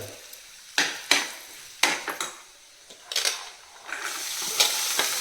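Malvani masala and turmeric fry in an oil tempering with a soft sizzle, while a spoon repeatedly scrapes and knocks against the pan in sharp, uneven strokes close by.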